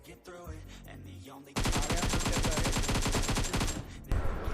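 Rapid automatic gunfire in the mobile battle game PUBG Mobile, a loud sustained burst of evenly spaced shots lasting a few seconds, then a sharper report at the end.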